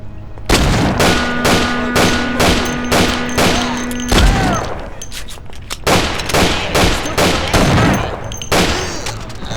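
Rapid bursts of gunfire in the video game Mafia, loud and close, with steady repeated shots and a sustained tone underneath for the first few seconds.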